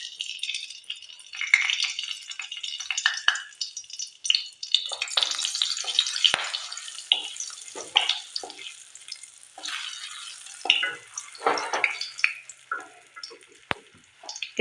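Dry red chili, a cinnamon stick and cloves crackle and spit in hot oil, with bursts of sizzling and sharp pops that swell and fade, close up and fairly loud.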